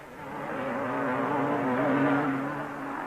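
BSA and Husqvarna motocross motorcycles from the 1969 500cc World Motocross championship race over a bridge and up a hill, their engines a continuous buzzing drone that swells slightly mid-way, heard moderately close with no talk.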